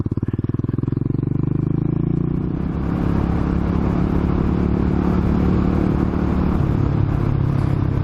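An old 1986 Suzuki Savage motorcycle engine running close by: slow, distinct firing pulses at first that blur into a fuller, rougher steady roar as it revs up.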